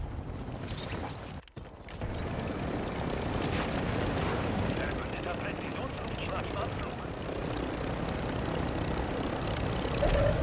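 A helicopter is wrecked in Call of Duty on Ashika Island, with a steady roaring rotor-and-engine wash and heavy rumble filling the scene, briefly dipping before surging back, while a voice talks over it.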